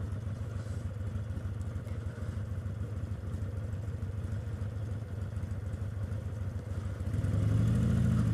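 A motorcycle idles in Chicago city traffic with a steady low rumbling throb that continues close and even throughout, rising slightly in loudness near the end.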